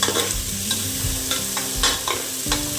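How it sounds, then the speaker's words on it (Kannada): Onions fry and hiss in a pan while a utensil stirs them in several short scraping strokes over a steady close sizzle. "ಸೊ ಇದನ್ನ ಚೆನ್ನಾಗಿ ಹುರ್ಕೋಬೇಕು ಈರುಳ್ಳಿನ."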